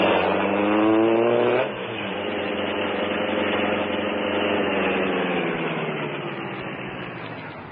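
The Green Hornet's sleek black car pulls away in a radio drama scene, its engine revving loudly at first, then settling into a steady, sustained drive that fades slightly toward the end.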